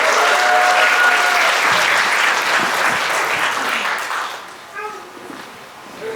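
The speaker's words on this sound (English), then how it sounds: "Can we give them a round of applause" A wedding reception crowd applauds loudly and steadily for the sister and her husband being invited up, the clapping fading toward the end as a voice and brief talk emerge.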